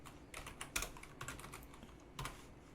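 Arrow keys on a computer keyboard are tapped in a quick, irregular series of light, close clicks, the room otherwise quiet.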